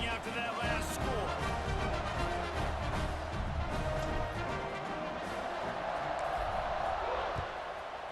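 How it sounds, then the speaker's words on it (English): A stadium crowd buzzes steadily in EA Sports College Football 26, a dense roar of fans heard continuously and loud throughout, with an announcer's voice speaking over it. "this crowd is buzzing after that last score"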